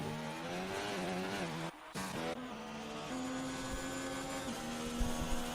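Ferrari Formula 1 car engine in a racing video game at the French Grand Prix, a steady high-pitched whine with rising and falling revs, briefly cut out then resuming, loud and continuous with other cars' engines layered underneath.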